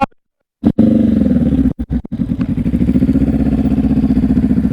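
Motorcycle engine during slow-speed riding practice, a close, throbbing idle that rises into pulsing throttle blips with brief cutouts, then settles into a steady, rhythmic chug.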